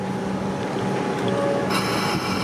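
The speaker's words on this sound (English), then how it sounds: "Comeng's train departing the platform." A Comeng electric train pulls away from a station platform on the Frankston line, giving a steady, close, broad rumble of motors and wheels that holds throughout.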